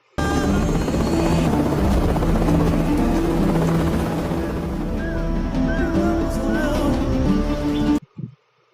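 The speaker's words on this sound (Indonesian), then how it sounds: "Helikopter meninggalkan warga dan tim" A loud, continuous helicopter drone with steady rotor thump fills the scene for several seconds, then cuts off abruptly.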